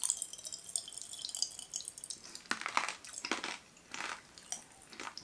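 Cinnamon-flavoured popping candy crackles in the mouth with tiny wet pops and fizzing snaps, close and intimate, coming in irregular bursts with no speech.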